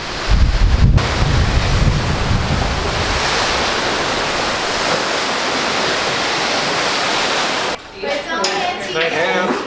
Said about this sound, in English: It's just a very windy day.